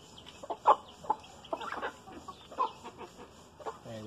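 A rooster on a Brazilian property gives a few short clucking calls in a quiet outdoor setting, with scattered faint background noise between the calls.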